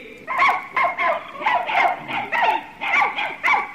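Dog barking near a small hut, a loud run of rapid, regular barks about twice per second, close and clear.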